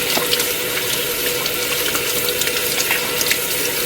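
Water runs steadily from a tap into a sink during handwashing, a close, continuous splashing rush with no voices.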